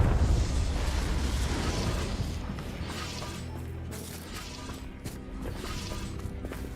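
Confringo fire spell explosion in Hogwarts Legacy: a dense, roaring burst at the start that settles into a sustained rumbling, crackling wash, with faint later pops, moderately loud and with no voices.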